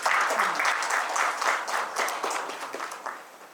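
Applause from an event audience as speakers come up on stage at a book release, a steady wash of many hands clapping, fairly close, fading slightly toward the end.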